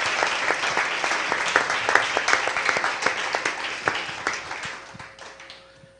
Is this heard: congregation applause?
yes